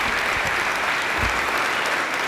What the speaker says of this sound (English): Let's please give another round of applause to both Omar and Gabrielle